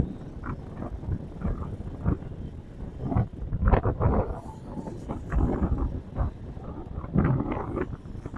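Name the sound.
strong wind on riverside boardwalk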